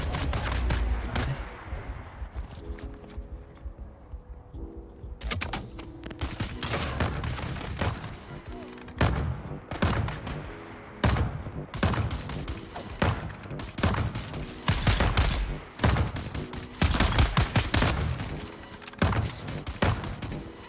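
Video game gunfire in a vampire-themed night session, bursts of rapid shots and thuds repeating throughout at close range, loud and dense with brief pauses between volleys.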